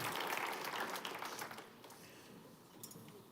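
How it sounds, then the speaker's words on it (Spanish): Church congregation clapping in praise of the Lord after a sermon, a burst of applause that starts full and gradually thins and fades toward the end. "Denle otro aplauso al Señor"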